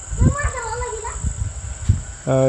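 Cat meowing at night in Dorli village, Sangli, giving a few short, rising and falling calls close by, with people talking around them and a louder voice near the end.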